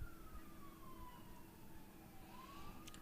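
An ambulance siren passes during a girls' high school soccer game, its wailing tone sweeping slowly through the whole stretch over steady crowd and field noise, moderately distant.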